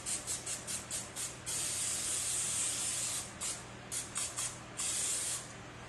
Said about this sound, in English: Spray it with pan on there.